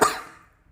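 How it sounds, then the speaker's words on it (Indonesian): A male teacher gives a single sharp cough during an elementary school lesson, loud at the start and trailing off quickly into quiet. "Maaf, batuk."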